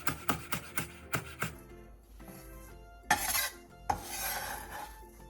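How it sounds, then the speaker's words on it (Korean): Green onion is chopped with a knife: about eight quick, evenly spaced chops, close and crisp, followed by a pause and some softer scraping and handling noises. "대파 1개를 쫑쫑 썰어주세요"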